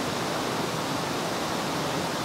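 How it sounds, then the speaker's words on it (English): A waterfall gives off a steady, loud rushing roar, broad and unbroken with no other sounds on top. "We're at a very cool waterfall."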